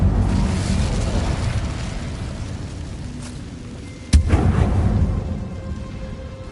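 A fire spell cast in Hogwarts Legacy: a steady low roaring rumble, then a sudden sharp burst that flares and fades away.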